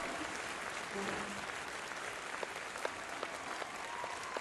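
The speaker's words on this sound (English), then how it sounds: "Look at me applauding." Steady crowd applause fills the scene in Red Dead Redemption II, dense and continuous at moderate level, with a few sharper claps standing out near the end and faint talk underneath.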